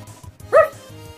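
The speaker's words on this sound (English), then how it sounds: "Lesser dog is barking excitedly." A single short, bright electronic bark from the dog in the video game Undertale pops out over a looping low music bed, close and loud with no talk.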